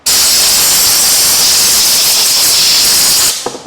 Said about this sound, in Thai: ฉีดน้ำมันเอาก่อน